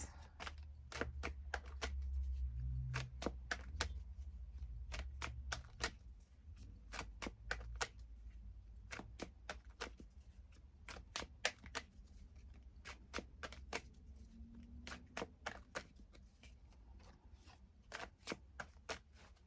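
A deck of tarot-style cards is shuffled close by, giving a run of quick, crisp snaps and flutters in uneven bursts with short pauses, alone with no talk.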